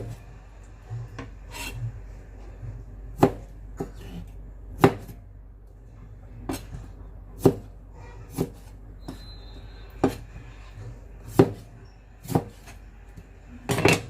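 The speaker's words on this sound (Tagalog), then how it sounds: "Akin ganito kasi ako mag-slice. Yan. And then yung preserved vegetable." A knife chops preserved mustard stem (zha cai) on a cutting board while tofu soup with potato, tomato, carrot and onion is being prepared, giving about a dozen sharp, separate taps spaced a second or so apart over a low, steady background.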